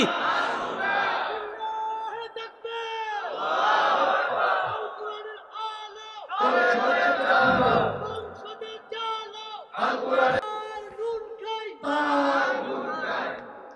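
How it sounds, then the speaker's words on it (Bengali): Crowd at an outdoor Islamic sermon gathering shouting a slogan in unison, loud voiced bursts repeating in several waves with brief gaps between them. "স্লোগান দাও না, যার নুন খাই"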